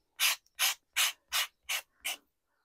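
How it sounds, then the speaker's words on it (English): A rough nail file rasps along the edge of a handmade paper bookmark in six even, close strokes, each a short scratchy burst separated by brief silence. "I get these nail files that are quite rough and they seem to work well for this job. So I'm just filing down the way."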